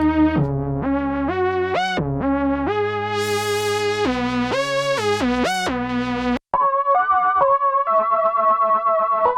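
Software emulation of an analog synthesizer played through heavy distortion: a buzzy, gritty lead line steps through short held notes and pitch jumps, then switches abruptly to a thinner chordal tone after a brief dropout.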